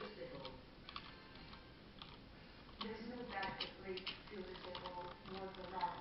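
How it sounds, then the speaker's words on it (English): Typing on a computer keyboard during a live web broadcast: light, irregular key clicks in short bursts, close to the microphone, with soft talking in the background. "I'm just typing some things."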